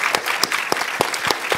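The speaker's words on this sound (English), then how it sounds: "can we please have a huge round of applause for Raphael and for Mick?" An audience at an evening Q&A event claps in a short, dense burst of applause, close and lively.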